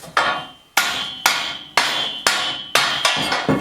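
Seven sharp, loud wooden mallet strikes on a wooden adjuster while installing girders in a farmhouse in Italy, at a steady, unhurried pace. Each thud rings briefly and fades before the next.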